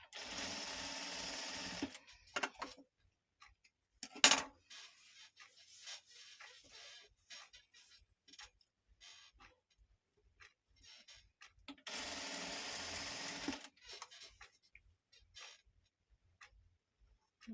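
A normal straight-stitch sewing machine runs a zigzag stitch in two loud bursts of steady whirring, one at the start and one near the end, with quieter clicks and handling noises between them.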